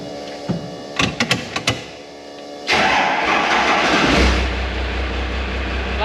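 A car engine starts after the transmission has been rebuilt and dyno-tested, a few quick mechanical clicks first, then a cranking surge that catches and settles into a steady low idle rumble.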